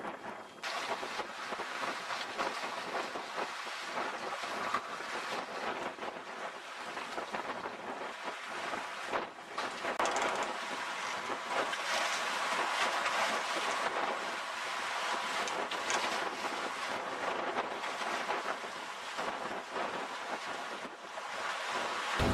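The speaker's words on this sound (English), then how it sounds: "now we're sailing out to Marooned today, hopefully" Seawind 24 sailing catamaran under way at sea off northern Australia, with a steady broad wash of water and wind rushing past the hull, loud and continuous with no voices.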